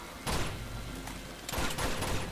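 Two quick bursts of gunfire in Uncharted 2: Among Thieves crack out fairly close against a steady game background, with no voices.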